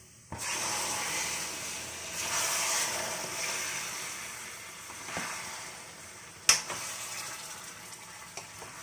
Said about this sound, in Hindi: अब हम इसमें ये कटहल डाल देंगे।